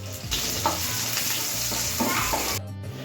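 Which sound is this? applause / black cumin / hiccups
black cumin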